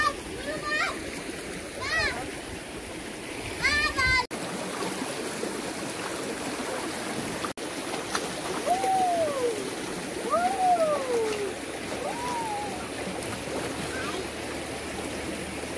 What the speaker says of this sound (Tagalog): habang naliligo yung mga chikiting natin dun sa may ilog at si Master Kawatski naman ay nag-aabono pa